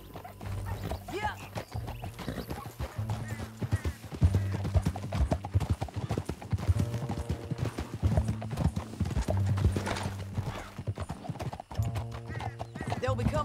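Hooves clip-clop in a fast, steady rhythm as horses gallop in Red Dead Redemption II, with an occasional whinny, low game music and people talking over the hoofbeats.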